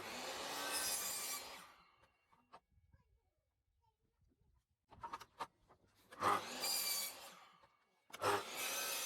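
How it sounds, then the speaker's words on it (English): A DeWalt chop saw cuts pallet wood to length against a stop, giving several harsh bursts of cutting separated by quiet gaps with small knocks and handling sounds between them. "I'm going to chop them all to the same length with a stop set on the DeWalt chop saw that I'm using"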